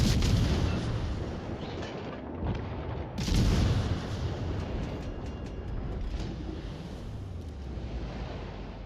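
Battleship gunfire in the naval combat game World of Warships, with deep booming salvos and rumbling blasts over a constant windy roar, a heavy burst near the start and another around three seconds in.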